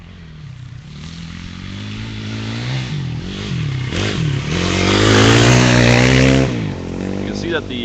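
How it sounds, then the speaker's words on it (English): Rally motorcycles race past on a sand stage, engines rising to a loud revving roar that builds, peaks and fades as they go by, with a person talking over the noise. "Oh, I hear two more motorcycles coming."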